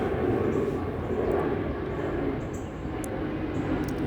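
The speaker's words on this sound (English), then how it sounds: "there's a big plane going overhead" A big airplane passing overhead, a steady broad low roar that holds through the whole stretch, fairly loud and continuous, with no talk over it.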